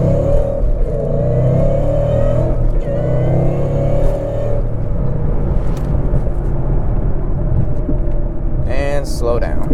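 A supercharged 2011 Mustang GT with a 5.0 Coyote engine accelerating hard, its loud, steady engine roar and rising pitch heard from inside the car, with speech underneath.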